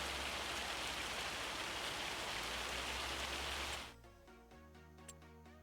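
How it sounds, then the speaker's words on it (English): Hail pelting down in the farming game Farming Simulator 25, a dense steady hiss of impacts for almost four seconds before it cuts off abruptly, leaving quieter ambient tones and a faint tick. "hail. Of course it's hail."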